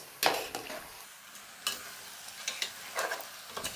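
Chicken being stirred with yogurt in a pot while frying for yakhni pulao: scattered scraping stirs and soft sizzling bursts, close and fairly quiet, with no talk.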